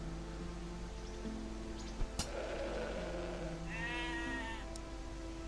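Sheep bleating in The Black Grimoire: Cursebreaker, a single wavering bleat rising over a steady low ambient hum, with a few faint clicks and a soft rustle earlier, fairly quiet with no voices.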